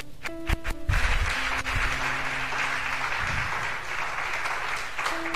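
A church congregation claps and cheers in sustained applause that swells after a moment and holds steady and loud, with a brief voice at the start.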